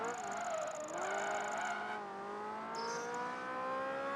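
A car slides and skids in Project Gotham Racing 3, the engine note rising and falling as the tyres squeal through the drift, steady and close with no talk.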